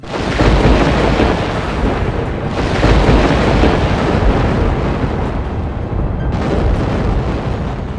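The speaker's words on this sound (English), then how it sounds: "the sky grew dark and thunder filled the air" Storybook thunder effect: a loud, sustained rumbling roar of thunder filling the whole stretch, with no voices over it.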